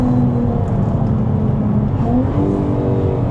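Jaguar F-Type V6 S engine droning loud and steady at speed, with a shift change in pitch partway through, no voices over it.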